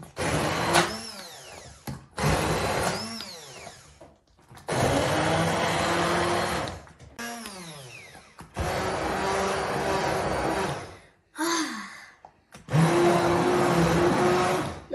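Kitchen blender pulsing vegetables into a thick bouillon paste, a loud motor whine in six bursts of about two seconds each, with pitch rising as each one spins up and short silent gaps between.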